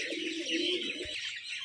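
A pair of colour-matched pigeons coo softly in a Rajshahi loft of Giribaz pigeons, with a brief low thump partway through.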